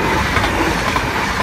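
An Arriva train passes close by in Echt, a loud, steady rush and rumble of rolling wheels filling the whole moment without pause.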